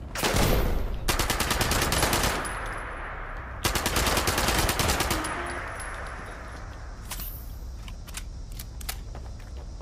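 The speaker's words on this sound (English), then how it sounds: "Oh, they're shooting at me." Rapid automatic gunfire from enemies in a nuclear winter shooter game, two long loud bursts of fast repeated shots followed by scattered single cracks and distant pops.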